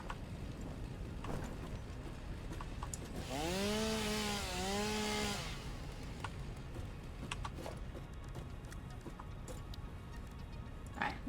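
Chainsaw in the Satisfactory video game, a rising and falling whine of about two seconds, faint against a busy background of game sounds.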